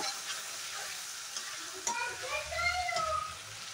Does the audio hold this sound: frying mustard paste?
yes